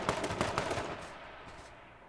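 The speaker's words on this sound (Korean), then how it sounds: "쟤 쏜다." Rapid burst of gunfire in the battle royale game H1Z1, a few sharp shots clustered near the start before trailing off into a fading echo, no voices.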